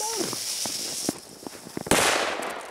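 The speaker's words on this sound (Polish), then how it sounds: "To jest petarda!" A firecracker bursts with one sudden loud crack late in the clip, set off outdoors among New Year's Eve fireworks, after a run of faint ticks and pops under background noise.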